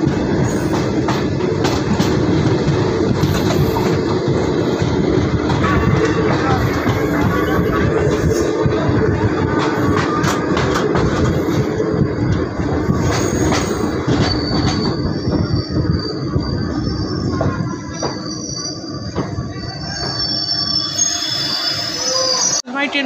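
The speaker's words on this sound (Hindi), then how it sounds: "ट्रेन पहुंच चुकी है हरदोई जिले के संडीला रेलवे स्टेशन पे।" The 14308 Bareilly–Prayagraj Sangam Express pulling into Sandila station in Hardoi district, heard as a loud, close, continuous rumble of railcars with wheel clatter and squealing brakes as it slows, with some voices in the background.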